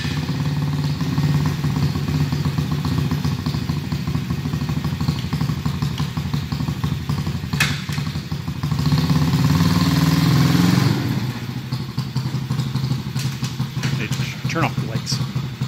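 A Coolster 125 cc youth ATV engine idles steadily and fairly loud, with a faint clatter on top, running throughout while a person talks over it.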